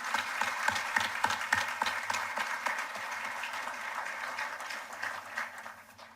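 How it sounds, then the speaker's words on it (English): Audience at a Bermuda College graduation commencement applauding, a dense sustained wash of many hands clapping at a distance, steady throughout and fading at the end. "Let's give ourselves a round of applause."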